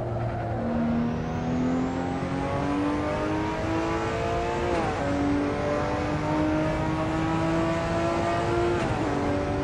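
Simulated engine of a Ruf RT12 R AWD in the racing game Assetto Corsa, on the Black Cat County track: steady loud revving that climbs through gears, with rising pitch sweeps and brief drops at shifts, continuous and close with no talk.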